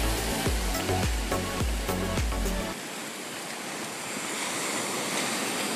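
Surf at Kuta Beach, Bali, a steady broadband wash of breaking waves heard up close, with rough low-end rumble and buffeting over the first few seconds before settling into an even, continuous roar.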